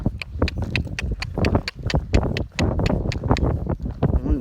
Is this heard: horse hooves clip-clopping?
yes